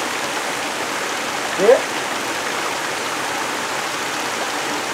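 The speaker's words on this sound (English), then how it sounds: "Water's coming right through it." Rainwater pours steadily through an opening outdoors as a constant rushing waterfall hiss, with a brief spoken question over it.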